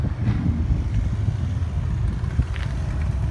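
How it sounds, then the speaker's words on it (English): Loud motorcycles pass behind a 2008 Nissan Skyline 250GT parked outdoors, a heavy low engine rumble mixed with wind noise that stays steady throughout. "excuse the loud motorcycles behind me."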